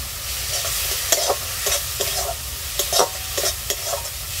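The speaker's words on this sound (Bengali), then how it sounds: "মশলাটা ভালো করে কষিয়ে নেব।" Ground spices with cumin powder, pepper, turmeric and a splash of water frying in a pan, a loud steady sizzle broken by repeated rhythmic scrapes and taps of a spatula, close up and without speech.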